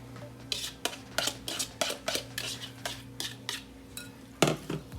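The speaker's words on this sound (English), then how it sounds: "Mix it all together." Chopped onion, bacon and cheddar being stirred into seasoned eggs in a bowl for mini egg bites, heard as a steady run of close, sharp utensil clinks and scrapes against the dish, alone without talk.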